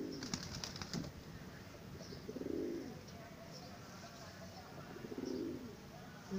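Soft, low cooing from a female pigeon comes in two or three rounded bursts over a steady background hiss, fairly close, with a faint flutter early on.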